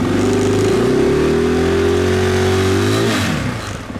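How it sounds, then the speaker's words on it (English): Street legal TPI car engine revved hard and held high for about three seconds, then dropping back toward idle; loud, close and continuous with no voices. "We're gonna gas it."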